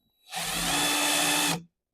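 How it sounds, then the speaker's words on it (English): A power drill whirs loudly and steadily for about a second and a half, drilling a hole for a Jeep JK drawer system, starting and stopping abruptly, with silence around it. "we're going to take this drill and we're going to drill out a hole all the way to the other side"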